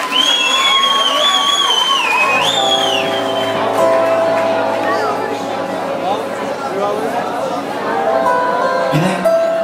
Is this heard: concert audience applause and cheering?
yes